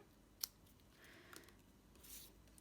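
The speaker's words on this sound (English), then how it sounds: "we're going to snip off this part and here" One faint, sharp snip of scissors through card during fold-card crafting, followed by light soft handling noises in a quiet room.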